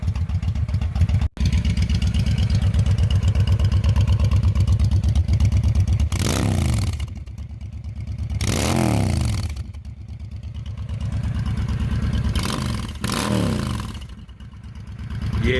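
A Honda Shadow 750 motorcycle engine running just after an oil change and engine flush, a steady, loud idle thump that swells into several revs and settles back, heard up close with no talking.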